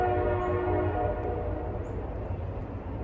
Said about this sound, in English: As you can hear, if you have the sound on, there are train tracks.